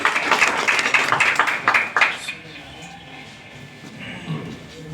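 An audience applauds to welcome the poet Dr. Wali Deobandi of Deoband at a 2023 poetry gathering. Loud, dense clapping fills the first two seconds, then dies away to a quiet room hum.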